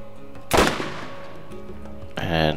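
Borderlands video game gunfire heard from a third-person view, one sharp loud shot followed by a ringing tail, with a second burst and rising tonal whine near the end.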